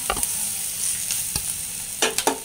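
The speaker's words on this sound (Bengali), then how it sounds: "তো আমার ভাজা শেষ।" Garlic and cumin fry in hot oil with a steady, fairly loud sizzle, broken by a few sharp scrapes and clicks of a stirring spoon against the pan.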